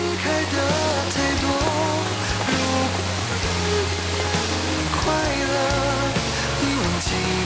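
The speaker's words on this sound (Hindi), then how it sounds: "बारिश ही हो रही है।" Steady rain patters continuously beneath soft music, a dense even hiss with no voices.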